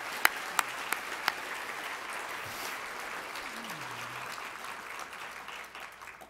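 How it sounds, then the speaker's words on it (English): Applause at an agribusiness award ceremony for industry leaders and award recipients, a steady, moderate crowd clapping throughout with a few sharp close claps near the start, fading slightly at the end. "Let's give these industry leaders a round of applause."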